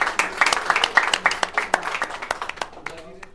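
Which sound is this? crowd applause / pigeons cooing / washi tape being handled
crowd applause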